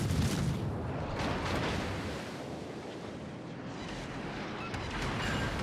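Naval ship guns firing in the World of Warships video game, a heavy rumbling roar with surf-like wash, loud and sustained.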